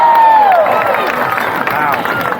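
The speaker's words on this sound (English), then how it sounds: "Blue Team, get loud for your racer!" A crowd at a stunt dog show at the State Fair of Texas cheers and applauds loudly, a steady dense roar of claps and shouts with an announcer's voice and a descending whistle-like tone over it.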